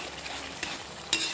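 Jackfruit seed curry with cumin powder and red chilli sizzles steadily in the pan as it's stirred, a close, continuous frying hiss with a couple of brief scraping stirs.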